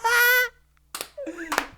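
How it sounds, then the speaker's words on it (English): Two sharp, loud hand claps land right at the microphone during a podcast recording, separated by brief bursts of talking voices. "The clapping."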